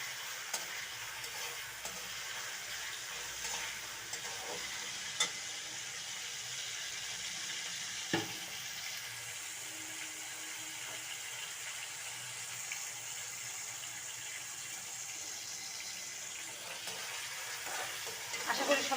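Hilsa fish in mustard paste frying in a pan, a steady soft sizzle and crackle running throughout with a few light clinks, close and moderately quiet, no talking.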